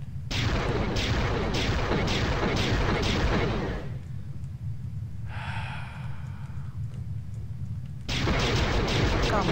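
Spaceship guns in Privateer 2 fire in a loud, rapid volley of regular bursts, pause into a low hum with a soft whooshing sound, then resume firing at the close.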